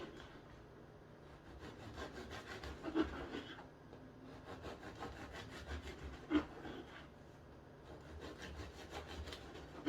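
A knife saws through a fresh baguette with soft, rhythmic rasping strokes in quiet bursts, with a couple of faint knocks against the board.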